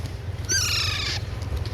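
Alexandrine parakeet chicks give a single burst of harsh, harmonic calling lasting under a second, fairly close and clear over a low steady background hum.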